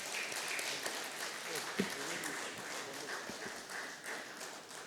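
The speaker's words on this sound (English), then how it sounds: "A big round of applause." Applause from a conference audience after a memento presentation at a business conclave, a steady broadband patter of clapping held at a fairly even level for the whole stretch, with a few louder individual claps and light background chatter.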